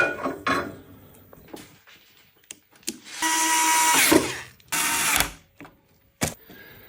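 A power screwdriver drives screws into the mounting of a Deye 5.1 Pro B LiFePO4 battery in short bursts, two longer whirring runs between clicks and brief handling knocks.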